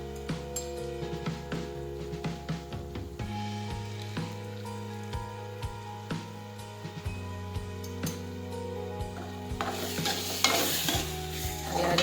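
Boiled urad dal curry with sugar and lemon juice is stirred in a pan, spoon scrapes and taps repeating over a soft sizzle, with a brighter hiss building near the end.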